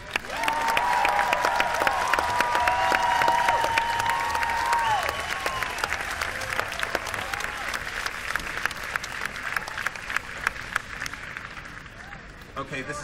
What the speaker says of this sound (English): We get a round of applause for the band